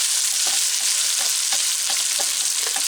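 Rice sizzles in hot oil in a pan for kimchi fried rice. The hiss is loud and steady, with soft scraping from stirring every half second or so.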